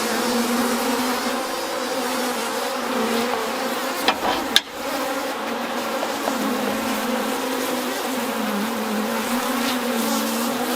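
Honey bees buzz steadily and close up during a beehive inspection, a continuous droning hum held throughout, broken around the middle by a couple of sharp brief knocks or handling sounds.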